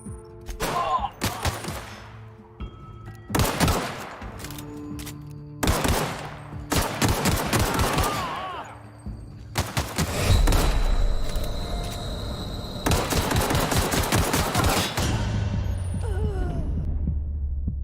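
Gunfire from the video game The Outer Worlds comes in several separate bursts of rapid shots, close and loud, with short gaps between them. It ends in a longer sustained stretch of firing over a low rumble.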